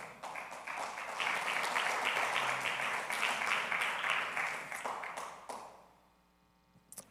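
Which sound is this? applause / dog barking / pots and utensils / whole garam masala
applause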